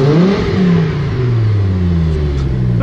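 Engine of a 2004 Chevrolet Colorado pickup with about 92,000 miles being revved, a loud steady rising and falling growl that fills the clip with no talk over it.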